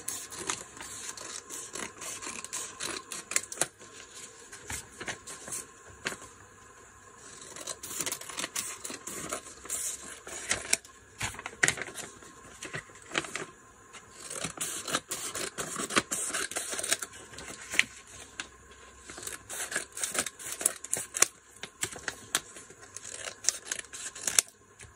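Scissors snip through paper into strips, short crisp cuts and rustling repeating steadily and close up, fairly quiet with no talking.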